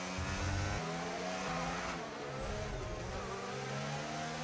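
Formula 1 cars race in a video game replay, with high, whining engines revving and shifting in overlapping bursts as several cars pass close together, continuous and loud with no talking.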